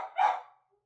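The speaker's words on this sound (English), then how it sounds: "there's a dog barking" A single dog barks once, a short sharp woof at moderate distance, with nothing else around it.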